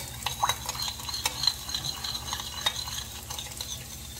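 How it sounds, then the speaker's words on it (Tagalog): Anchovies being stir-fried in a pan, with a steady sizzle under quick, clicking scrapes of a utensil stirring close by, and no voices. "Pagkalagay ng dilis, mga 30 seconds lang natin ginisa-gisa."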